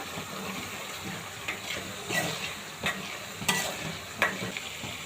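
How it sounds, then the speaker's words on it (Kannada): Oil for herbal hair oil hisses softly in a wide, heavy-bottomed pan, a steady low sizzle broken by a few sharp utensil clinks and taps. "ನಾವು ಯಾವಾಗಲೂ ಈ ಥರ ಎಣ್ಣೆ ಕಾಯಿಸ್ಬೇಕಾದ್ರೆ ದಪ್ಪ ತಳ ಇರೋ ಅಗಲ ಪಾತ್ರೆಯಲ್ಲೇ ಎಣ್ಣೆ ಹಾಕಬೇಕು"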